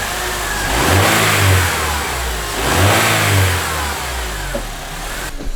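BMW E46 M3 engine with the intake resonator fitted revs twice in rising and falling swells, then settles back toward a rough idle; the sound is close and loud and has no talking over it.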